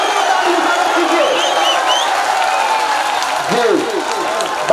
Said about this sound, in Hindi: तो एक बार जोरदार ताली मुबारक कीजिए।